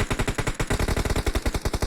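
Automatic gunfire sprays in a PUBG esports match, a video game, as a rapid, steady stream of loud, evenly spaced shots runs without a break for the whole clip.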